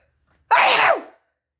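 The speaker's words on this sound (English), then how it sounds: "I'm going to sneeze in a minute here" One loud, close human sneeze bursting out after a silent pause and trailing off quickly into quiet.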